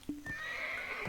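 A horse in Black Desert Online whinnies loudly and at length as it performs its hind kick skill, with a short snort and a few hoof thuds underneath.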